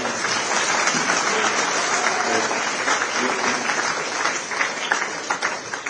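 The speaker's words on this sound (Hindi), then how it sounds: "क्रांति के लिए ताली बजाए" A crowd at a ceremony honouring cricketer Kranti Goud breaks into loud, sustained clapping, a thick even patter that tapers slightly toward the end.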